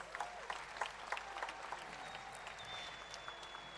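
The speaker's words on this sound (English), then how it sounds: "So let's give all the performers here a huge round of applause." Faint, distant applause from a crowd at an ashram Shivaratri celebration, with soft overlapping claps heard continuously at a low level and some individual claps standing out.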